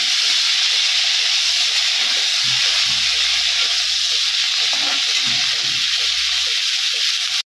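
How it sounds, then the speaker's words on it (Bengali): Cauliflower florets frying lightly in oil in a pan, a steady close sizzle and hiss running throughout with soft rhythmic low bumps and stirring, for a potato-cauliflower fish curry. "কপিটা আমি হালকা ভেজে নেবো একটু তেলে"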